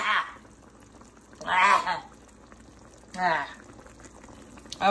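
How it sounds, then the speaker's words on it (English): Sauce bubbling in a pan after a corn starch and water mixture was poured in for homemade General Tso chicken, with steady close simmering and bursts of louder bubbling at intervals. "I literally just poured in the corn starch and water mixture, and you can see that it's already thickening up"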